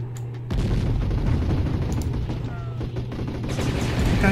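Heavy tank cannons firing in the real-time strategy game Warzone 2100, a dense run of booming shots and blasts with a steady low hum beneath, loud and continuous after a quiet opening half-second.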